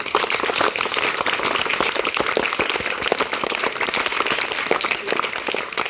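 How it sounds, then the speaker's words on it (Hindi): Children clap together at a school gathering, a steady dense patter of applause that fills the whole stretch at even loudness with no voices over it. "इस बात पे तालियां जरूर बजनी चाहिए"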